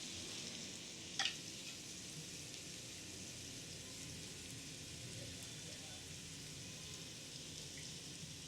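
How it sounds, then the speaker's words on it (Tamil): Shallots frying in oil for chicken tikka biryani give a steady, soft sizzle that runs throughout, with one brief sharp click early on and no voices. "சின்ன வெங்காயத்தை நல்லா பொரிய விடுறோம்."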